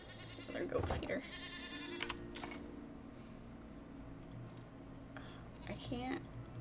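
Goats bleat in the video game Enshrouded, with a couple of distinct calls near the start and another near the end. Steady game ambience and bursts of computer keyboard typing run underneath.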